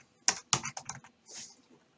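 Computer keyboard typing during Minecraft play: a handful of sharp, separate key clicks in a quick uneven burst, then a softer brushing clatter, close and fairly quiet, with no talking.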